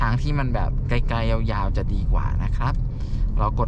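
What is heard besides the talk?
No distinct noise like a dog, phone or traffic.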